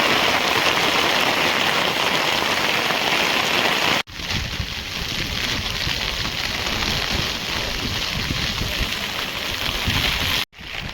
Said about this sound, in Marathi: भावानो गावातला पाऊस बघा गावचा पावसाचं वातावरण